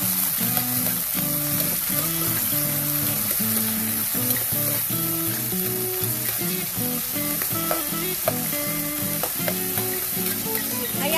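Tomatoes sizzle and crackle steadily in hot oil in a pan while frying for pork menudo, a close, continuous frying hiss under background music.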